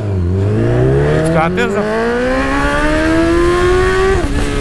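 Honda CB1000 motorcycle launching hard with launch control, engine note climbing steadily through a long rising rev with brief dips at gear changes, loud and close, with someone talking briefly over it.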